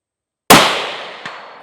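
A single sharp rifle shot from a Sig Cross aimed at a 200-yard target on an outdoor range, loud and close after silence, followed by a long fading tail and a faint, brief second crack a moment later.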